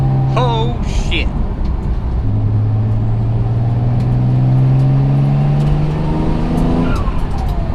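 A built twin-turbo Mitsubishi 3000GT pulls hard, its engine note climbing steadily in pitch through the gears, loud and close inside the car, with a brief whoosh and voices at the start.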